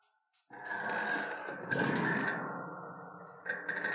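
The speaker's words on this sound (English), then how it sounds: "I hear him breathing." Creature in a spooky Halloween video game breathing in long, hoarse, drawn-out exhales with a raspy, tonal edge, close and eerie, one sustained breath followed by the start of another.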